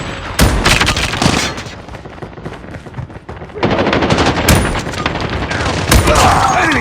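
Rapid automatic gunfire and shotgun blasts from the Call of Duty Mobile video game, loud bursts separated by short gaps, with sharp shots near 0.4, 4.5 and 6 seconds over dense continuous game sound.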